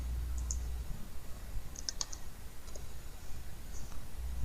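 Keys click on a computer keyboard while a word is typed and entered, a few light, quick taps scattered through a quiet background hum.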